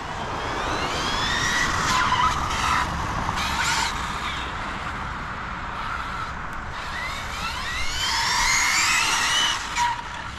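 Two small 80 mph electric RC trucks race and skid on loose ground, with high motor whines rising and falling over a steady broadband rush of tire scrub. The pass grows loudest near the end.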